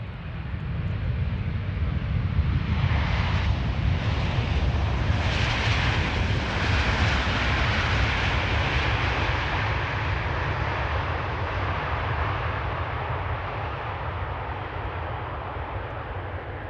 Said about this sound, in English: This is KLM flight 644, arriving from New York, JFK. 777-200